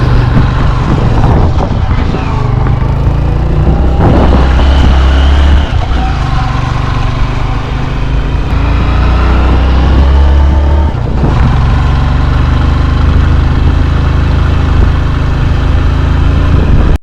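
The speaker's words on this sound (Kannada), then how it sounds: "ಬೈಕಲ್ಲೇ ರೈಡ್ ಮಾಡ್ತಾ ಇದ್ದೀವಿ" A motorbike engine drones steadily while the bike climbs a hill road to Mandaragiri Betta, with loud, constant wind buffeting on the microphone and occasional shifts in engine pitch.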